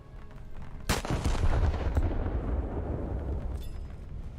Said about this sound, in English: hitting that ship with a main battery barrage is going to sink it